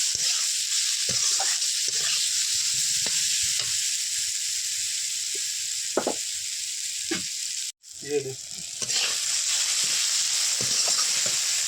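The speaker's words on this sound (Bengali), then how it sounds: "স্বাদ মতন লবণ, স্বাদ মতন হলুদ দিয়ে ভালো করে মশলাগুলোকে ভেজে নেব।" Spices sizzle and fry steadily with salt and turmeric for a Bengali village-style crab and ash gourd curry, with stirring scrapes and clinks throughout and a brief dip near the end.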